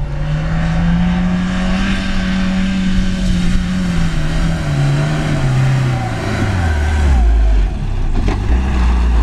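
A 4x4 vehicle revving and accelerating through sand, its engine pitch holding steady then dropping and rising again, loud and close with faint talk underneath.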